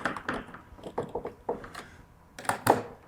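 Screws being tightened on robot JD's battery, with a run of small mechanical clicks, taps and ratcheting thunks spaced irregularly up close, fairly quiet with no talk.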